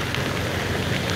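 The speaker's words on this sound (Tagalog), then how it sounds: "pang ilang araw na ba itong ulan? Pang mag-iisang linggo na ata itong ulan ng ulan." Heavy rain during a week-long stretch of stormy weather hisses in a thick, continuous wash, loud and close, with no voices.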